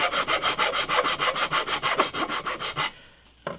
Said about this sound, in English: I'm going to saw it, but saw it as close to the grain as I can, keep to the grain lines.